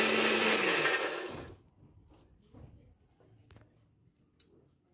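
A blender whirs loudly while making a smoothie, then cuts off after about a second and a half, leaving a quiet room with a few faint knocks and clicks.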